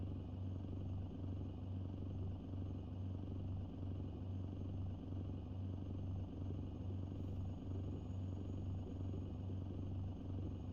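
A truck engine idles in American Truck Simulator with a constant low, even rumble and no other clear sounds.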